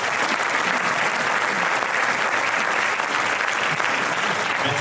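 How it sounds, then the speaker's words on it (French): A forum audience breaks into dense, steady applause from many hands, sustained evenly for the whole stretch with no voices rising above it. "on vous applaudit doublement"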